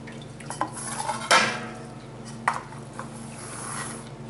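A ham bone lifted out of a pot of lentil soup that has simmered for hours, heard as a few clanks and scrapes of utensils against the pot, with one sharp knock, close by and without any talking.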